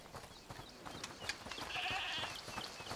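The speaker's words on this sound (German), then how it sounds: "Ist das die Ziege, die er meinte?" Goat bleating in the video game A Plague Tale: Requiem, a faint wavering bleat rising out of a soft ambient background with scattered clicks and rustles.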